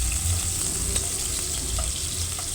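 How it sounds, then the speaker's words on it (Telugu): Chopped onions fry in oil for an eggplant and potato curry, with a loud, continuous hiss and sizzle alongside stirring noise, steady and close. "ఇది ఆనియన్స్ ఆయిల్లో బాగా వేగనియాలి."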